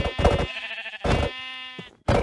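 Sheep bleat in Minecraft VR: three loud, separate bleats close up, one after another with short gaps between them.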